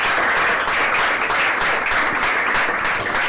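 An audience applauds a participant at a reading contest, dense continuous clapping filling the room at steady loudness for a few seconds.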